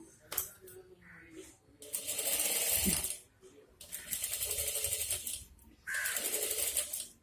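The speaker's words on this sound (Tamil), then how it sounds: "அந்த ஜரி ஒர்க்குக்கு கீழே நம்ம இப்போ ஸ்டிச் பண்ணுறோம்." Sewing machine stitching beneath zari embroidery on a blouse, heard in three loud whirring bursts of rapid needle clatter separated by short pauses and faint handling clicks.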